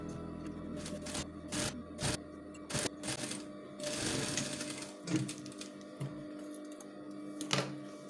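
A sewing machine runs up close in steady, rattling bursts, stopping and starting as it joins jacket pieces along a half-inch seam. Its needle clatter comes in short runs with brief pauses between them.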